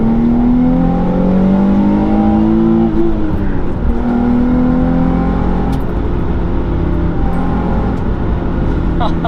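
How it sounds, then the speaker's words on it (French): A Nissan 350Z engine revs loud and close during a drift, rising and falling in pitch with sustained roaring, and a person talks over it. "T'es toujours obligé de lui mettre des chassés comme ça."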